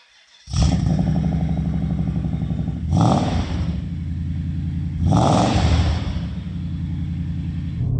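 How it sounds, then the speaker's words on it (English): A BMW E39 M5 engine fires up from cold with a sudden loud start, then settles into a deep, close rumbling idle broken by two sharp revs a couple of seconds apart. "Shall we do a cold start? Let's do a cold start."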